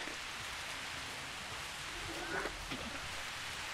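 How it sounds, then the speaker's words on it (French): Rain in the video game Jurassic World Evolution, a faint steady hiss of falling rain with a soft low rumble, continuous and even. "Oula, il pleut."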